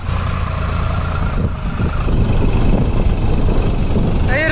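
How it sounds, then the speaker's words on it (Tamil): A Farmtrac tractor engine labors steadily while towing a boat, a loud, continuous low rumble that swells slightly partway through, with no voices. "இந்த டிராக்டர் கப்பலை கட்டி இழுக்க போகுதுங்க"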